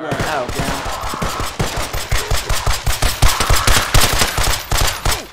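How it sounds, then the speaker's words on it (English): Rapid automatic gunfire in the video game Atlas Uprising, a loud sustained volley of evenly spaced shots rattling on for several seconds. "Shots fired."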